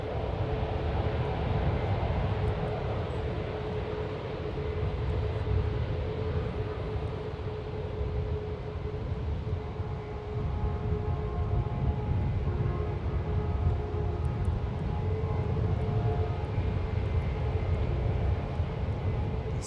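Airbus A380 and other airliners at San Francisco International Airport, a steady distant jet engine rumble and whine with a faint tonal hum, continuous and without talk.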